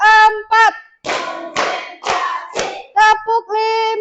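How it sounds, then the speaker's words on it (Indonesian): Hands clap in a counted sequence of distinct, close claps, with a voice calling out between them. "Oke, tepuk 1, tepuk 2, tepuk 3, tepuk 4"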